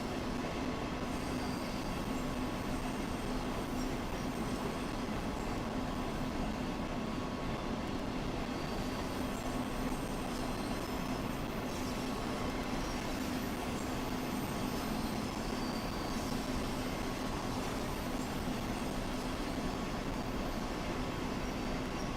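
A German passenger train in the Train Sim World 2 video game hums and rumbles steadily along its route, with constant wheel and rail noise and a faint squeal, quiet and unbroken throughout.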